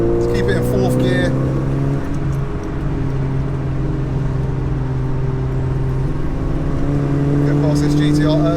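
A 607bhp SEAT Leon Cupra race car holds a steady engine drone in fourth gear on a damp, slippery track, the loud harmonic note near and constant throughout, with a brief shift in pitch midway.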